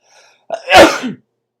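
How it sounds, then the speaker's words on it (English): One loud, close sneeze with a sharp intake before it, then silence. "That was a big sneeze."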